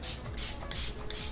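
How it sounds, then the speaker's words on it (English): MAC Prep and Prime Fix Plus setting spray misting from a pump bottle in a few close, hissing bursts during a makeup routine, with brief pauses between sprays. "And I'm using my Prep and Prime Fix Plus from MAC, and I'm just going to spray it on."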